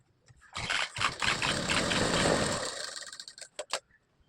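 A sewing machine stitching a pocket on a pair of narrow pants, whirring up quickly into a steady, close mechanical run for a couple of seconds before slowing and stopping with a few final clicks.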